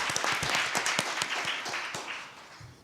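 Applause from a workshop audience welcoming a lawyer, a short burst of many hands clapping together that fades toward the end, heard from the room at moderate distance.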